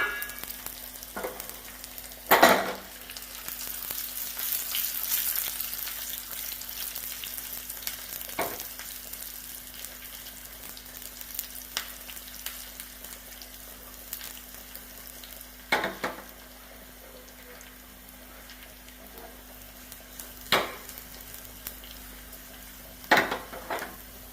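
Dried red chillies and curry leaves fry in hot oil for a taro curry, giving a quiet steady sizzle with occasional sharp clinks and scrapes of a utensil against the pan.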